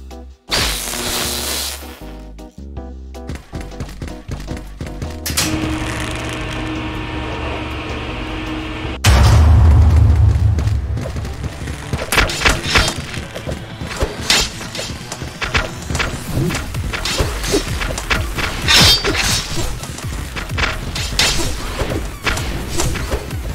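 In the video game Clone Drone in the Danger Zone, robots blow up in a dense series of booming thuds, crashes and smashes over game music and effects, loud and chaotic.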